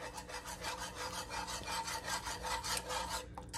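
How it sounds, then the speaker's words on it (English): Whisk working gravy and sauce in a skillet of pasta, pork and mushrooms, a fast continuous scratchy rhythm of strokes heard up close with no talking. "I am going to use a whisk to break that up"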